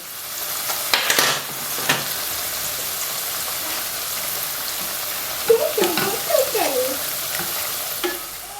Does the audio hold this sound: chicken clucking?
no